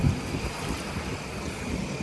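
Flood water sloshes and washes in gentle waves with a steady rushing noise and some wind buffeting the microphone, no voices.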